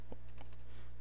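Keys on a computer keyboard are tapped in a quick burst of light clicks during Cisco switch configuration, close but faint over a steady low electrical hum, with no voices.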